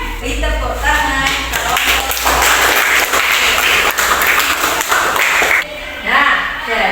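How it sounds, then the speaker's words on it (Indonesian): A classroom of pupils clapping together for several seconds, steady and fairly loud, with voices talking over the applause throughout. "Beri tepuk tangan."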